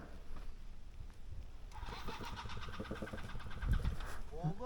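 An enduro motorcycle on a dirt training track revs in second gear and then bogs down and stalls, its mid-pitched engine note sagging and cutting out close by, with riders talking over it.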